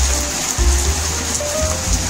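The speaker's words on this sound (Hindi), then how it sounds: "इतनी खतरनाक वाली बारिश हो रही है" Heavy monsoon rain in Uttarakhand pours steadily, a dense continuous hiss of drops drumming on surfaces, loud and close with no speech over it.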